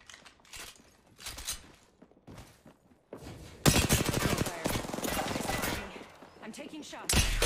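Rapid automatic gunfire from the Apex Legends video game, loud bursts of shots crackling in dense volleys that build into a sustained barrage, with a player talking over the early part.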